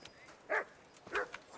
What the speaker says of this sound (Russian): Пес.